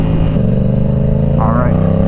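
A Yamaha R7 sportbike with a full exhaust and flash tune runs strong, its loud, close, steady engine drone shifting pitch slightly while someone talks over it.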